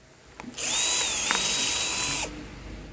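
A power drill runs up close on the screws of a blender being taken apart, one whining burst of under two seconds that starts and stops abruptly, with no talk over it.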